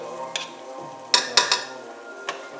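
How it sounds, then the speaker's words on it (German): Spoon stirring cooked meat in a pot on a stove, heard as a few sharp scraping clinks against a steady low sizzle, close and without talking. "Ich rühre noch einmal um."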